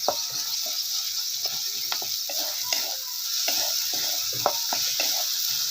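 Tomato and onion frying in a pan for village-style soybean bhaji, a constant bright sizzle broken by repeated small scrapes and taps of a spatula being stirred, close and without talk.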